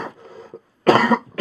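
Coughing bursts during a casual podcast recording, first a softer throat-clearing cough, then a loud harsh cough burst and the start of another, close to the microphone.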